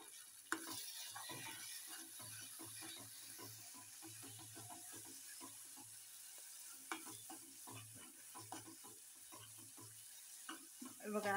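Masala for shahi paneer sizzles as it is sautéed in oil, a soft continuous frying hiss broken by faint stirring scrapes, with quiet talk in the background.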